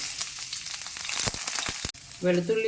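Ginger and garlic frying in hot oil for chilli egg, a steady close sizzle with a sharp knock near the end, followed by a brief tonal clatter as the pan is handled.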